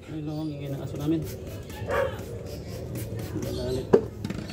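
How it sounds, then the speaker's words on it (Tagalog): A family dog barks and yips a few times in the background while a person talks over it, with a sharp knock near the end. "ingay ng aso namin."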